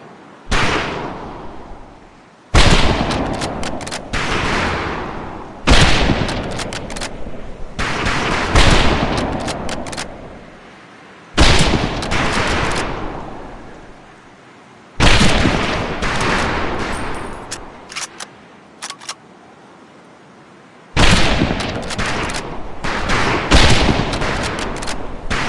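Rifle volleys ring out at a military firing range in Medal of Honor: Pacific Assault, six loud sharp bursts of overlapping shots, each followed by a decaying echo and a short quiet gap.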